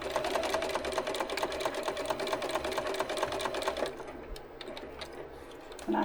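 Close, rapid stitching from a sewing machine whose bobbin case rattles, a dense mechanical clatter that eases into slower, sparser clicks partway through.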